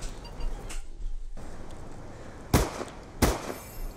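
Two sharp, loud gunshots about half a second apart from an SMG firing FMJ rounds in a hardcore Black Ops 2 match, over steady game background noise.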